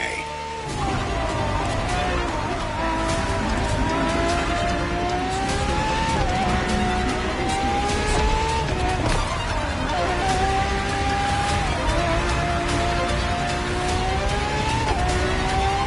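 Ferrari FXXK, a track-enhanced LaFerrari, racing in a video game: a loud, continuous engine whine that climbs and drops with gear shifts, with tire squeal over steady game backing sound, no talk.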